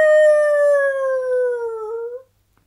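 A single long, tonal howl with steady harmonics, sliding slowly downward in pitch before cutting off into silence; loud and close, consistent with a wolf howling at the moon, though it could be a voice imitating it.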